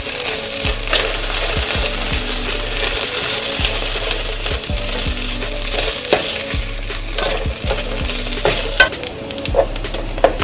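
Turkey bacon fries in a pan on a stovetop, a constant bright sizzle with a regular series of utensil clicks and scrapes against the pan, loud and close with no voices.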